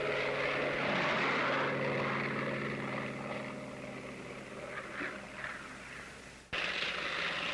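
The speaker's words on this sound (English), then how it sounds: "The Navy Bearcat seemed to be all propeller and engine." A Grumman F8F Bearcat propeller fighter drones with a steady, throaty piston-engine roar and propeller hum. It is fairly close and even in level throughout, with a brief dip and jump near the end and no talk.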